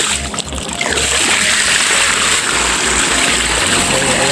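Water rushes and splashes steadily as a concrete tilapia tank drains, a loud continuous gush of flow with a brief clatter at the start.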